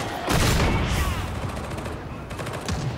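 Gunfire in Warhammer 40,000: Darktide, with sustained loud bursts of rapid shots and booming impacts rolling without pause across the clip.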